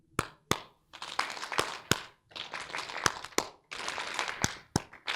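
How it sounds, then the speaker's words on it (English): A workshop audience claps in a call-and-response game, two claps answered by three: sharp, close hand claps in distinct bursts, sometimes ragged and overlapping as many people join, separated by short pauses. "I'm going to clap twice, and you're going to answer with 3 claps"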